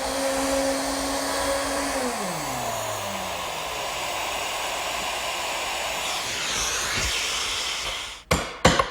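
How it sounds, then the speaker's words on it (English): A router fitted with a 3/8-inch bit and 5/8-inch collar runs steadily as it plows out a mortise inside a jig, a loud sustained whine whose pitch sags as it bites, ending with a few sharp knocks. "I'm going to use my router to plow out the mortise"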